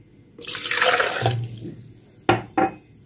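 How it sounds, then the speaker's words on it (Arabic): Water pours in a gurgling stream into a blender jug for about a second, followed by two short splashing sloshes. "نجيب الشفشق بتاع الخلاط ونحط فيه كوبايه ميه"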